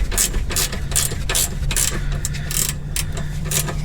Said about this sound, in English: Okay, so we're taking this clamp loose.